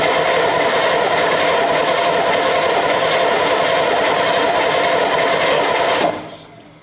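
An 82-year-old diesel truck engine, turning over on a cold start, makes a loud, steady, close-up clattering roar. It holds for about six seconds, then cuts off abruptly and fades.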